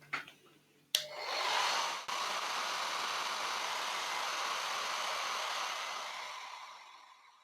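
A hair dryer blows on a watercolour painting of a bearded iris, starting with a click and then running as a steady, loud, close whoosh for several seconds before winding down.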